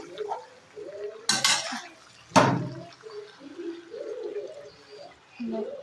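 Cauliflower is stirred with spice paste in a pan, producing a few sharp metallic scrapes and clatters amid soft, intermittent shuffling and sizzle, with a quiet voice murmuring in the background.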